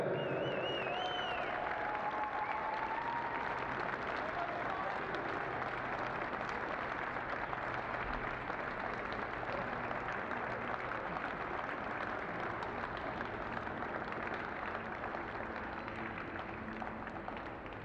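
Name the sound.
audience applause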